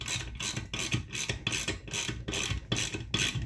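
A ratchet wrench tightens bolts into an aluminum part on a GM 2.4 Twin Cam engine, giving rapid, evenly spaced clicking strokes up close with a continuous mechanical rhythm and no voices.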